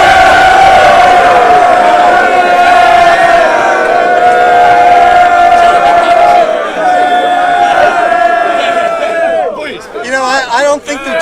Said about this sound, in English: I don't think they're cheering for us